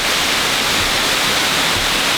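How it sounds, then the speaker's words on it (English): A waterfall in Bali roars as a loud, unbroken rush of white water, close and constant from start to finish with nothing else audible. "Don't you just love the sound of that waterfall?"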